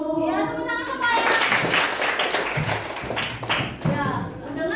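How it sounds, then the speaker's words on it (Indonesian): A school class claps hands after singing a national song, with rapid close-up claps and taps mixed with children's voices and speech, busy and fairly loud. "Ya, tepuk tangan semuanya."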